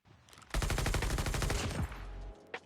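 Rapid automatic gunfire rattles in a battle royale video game, a dense burst of shots lasting over a second, followed by a brief tail and one more faint crack near the end.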